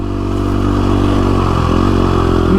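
KTM 350SX-F motorcycle, a Supercross bike set up for desert racing, riding in the desert: a loud, close, steady engine drone with a slight rise in revs and rattling clatter throughout.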